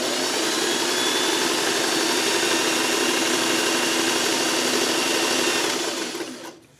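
A sewing machine stitching fuzzy fabric, running at a steady, loud, continuous whirring hum close by, then slowing and winding down at the end, with no talking over it.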